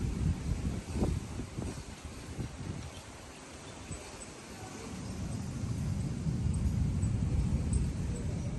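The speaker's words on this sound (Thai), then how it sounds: "เพราะลมมันแรงมากๆแล้ว" Strong gusting wind ahead of a storm roars and buffets outdoors, with rushing, rustling bursts early on, then a steadier loud blowing that builds toward the end; no one speaks.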